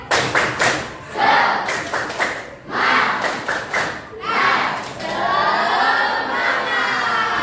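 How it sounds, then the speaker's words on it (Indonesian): Students in a classroom perform a rhythmic spirit clapping chant, loud claps in patterned bursts mixed with thumps and shouted voices, ending in a sustained group cheer. "Oke, kita bakalan tepuk semangat ya. 1, 2, 3, tepuk semangat."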